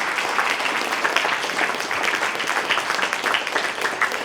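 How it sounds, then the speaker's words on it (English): Audience applause for top-ranking NEET exam students at a results press meet, a steady, even patter of many hands clapping at moderate volume, continuous and unbroken by talk. "but huge round of applause to them."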